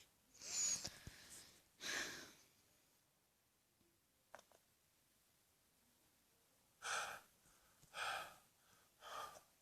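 Heavy, breathy exhalations in the horror game Granny: 5 Days come in separated bursts, two early and three later, with a quiet gap between them, close and rasping.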